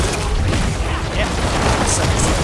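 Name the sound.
explosions from necromancer skills in Diablo 4 video game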